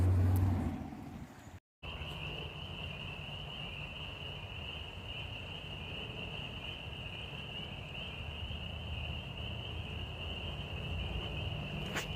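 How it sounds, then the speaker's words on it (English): Distant road traffic drones steadily near a woodland campsite beside running water, with a constant high insect buzz over the low rumble and no talk. "It's a shame that there's you can hear the traffic"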